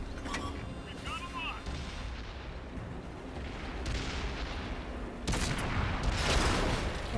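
Tank cannon fire and rumbling battle noise from World of Tanks, a continuous dense barrage with stronger blasts toward the end, mixed with faint game effects.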